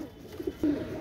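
Teddy 128 pigeons cooing, a few low throaty coos rising close by, the last one longer and louder, over a quiet room background.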